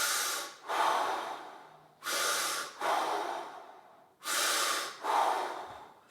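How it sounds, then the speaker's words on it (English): Deep breaths drawn in through the nose during a fascia stretching exercise: close, hissing inhalations and exhalations repeat in three slow paired cycles with no talking. "Breathe in."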